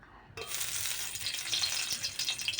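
Garlic cloves frying in a little oil in a kadai, a steady close sizzle and crackle that starts abruptly after a brief quiet moment and keeps going with no talking.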